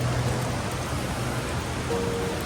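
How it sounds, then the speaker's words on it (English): Steady, heavy rain pours down in a constant hiss, loud and unbroken throughout, with no voices. "it's just pouring rain right now"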